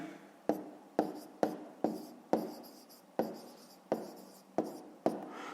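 Pen writing by hand on paper while working a fifth-grade maths exercise: about ten short, crisp scratching strokes, each sharp at the start and then tailing off, close and isolated.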